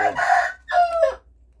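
A loud, close rooster crow in two drawn-out parts, ringing and strained, standing alone with nothing behind it.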